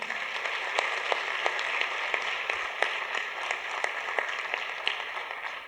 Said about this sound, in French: On les applaudit aussi.